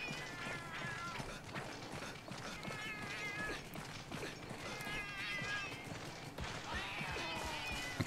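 Cats meowing in the video game Monster Hunter X, a few high, harmonic meows rising over a steady bed of game music and footsteps, following close behind the player.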